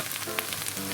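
Korean pork and cheese pancake shallow-frying in oil in a pan, a steady close crackling sizzle with scattered pops and no voices.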